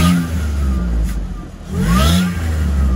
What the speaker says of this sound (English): You can hear the exhaust leak coming out of there.